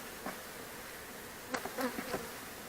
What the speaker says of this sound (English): Got bees in them.